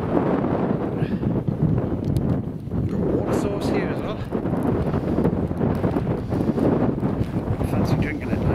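Steady wind buffeting the microphone at a wild campsite in the Lake District, a constant rushing roar under a voice throughout.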